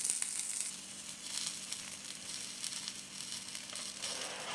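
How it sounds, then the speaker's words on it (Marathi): Semolina bread patties sizzle steadily as they fry in a pan, a soft continuous crackle with faint popping, close and fairly quiet, no talking. "आता आपल्याला दोन्हीकडून असं चांगलं लालसर फ्राय करून घ्यायचं आहे"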